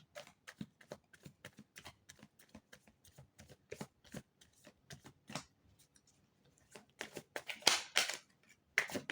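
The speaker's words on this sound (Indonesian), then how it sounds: "Kartunya akan saya pilih secara acak." Tarot cards are shuffled by hand, a rapid series of crisp riffling flicks and slaps close to the mic, irregular in rhythm and growing louder toward the end.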